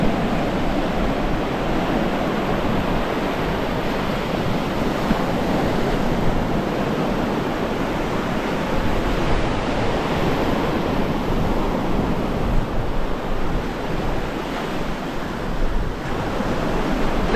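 Strong wind and rough ocean surf pound a beach in Santa Maria, Cuba, as a loud, unbroken roar of crashing waves and gusting wind buffeting the microphone, with no voices.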